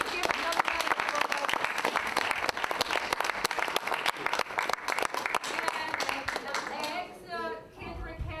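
Loud, dense applause fills a theater audience after a stage performance, continuous clapping that thins toward the end as voices and talk emerge.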